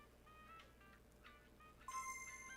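An electronic phone ringtone chimes in short melodic bursts during a livestream of Animal Crossing: New Horizons, then a brighter, louder tone rings out near the end, all fairly quiet over a low background hum.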